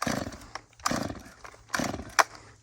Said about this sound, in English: He can't even crank a chainsaw